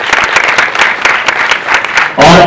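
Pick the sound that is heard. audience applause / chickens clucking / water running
audience applause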